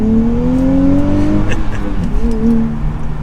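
A 2023 Nissan Z manual sports car accelerating hard, its engine note climbing steadily and loud from inside the cabin before a brief shift and a renewed rise.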